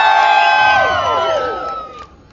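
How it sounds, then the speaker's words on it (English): Street-show spectators on a beach boardwalk break into loud cheering and whooping, many voices yelling together at once, the shouts sliding and tapering off over about two seconds. "Next, let's hear some cheering."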